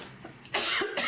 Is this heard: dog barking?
no